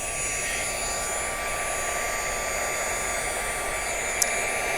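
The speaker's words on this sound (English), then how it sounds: "even the best heat guns do have a little bit of an airflow to them" Steady broadband rush of a heat gun blowing hot air over a single layer of cardstock for embossing, continuous and even at close range with a brief click near the end.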